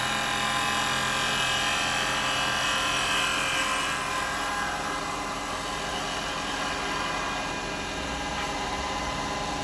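Woodturning lathe spinning a small firewood bowl blank, a steady, loud, dense whirring drone with a constant hum underneath that continues unbroken and eases slightly in intensity partway through, no speech.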